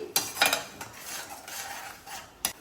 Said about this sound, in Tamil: இப்போ இதையும் போட்டு நல்லா ஒரு வதக்கிடலாம்